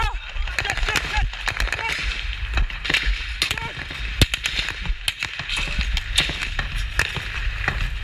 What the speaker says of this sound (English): What we're hearing is only AK-47 fire